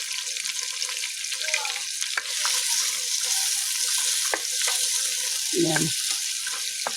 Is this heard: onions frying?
yes